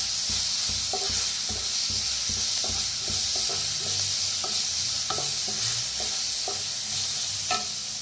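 Spices roasting in a pan for a kadhi vada recipe, with turmeric added, give a steady close sizzle. Repeated scraping stirs sound throughout, and no one speaks.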